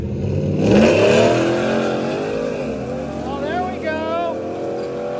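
A Dodge Dart drag car making a test pass at a drag strip, its engine rising in pitch through several gear changes as it pulls away, loud and close, with an announcer talking over it.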